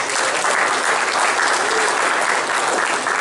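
A crowd at an anniversary event claps steadily for a state rugby championship win, dense and loud applause filling the whole moment with no talk over it.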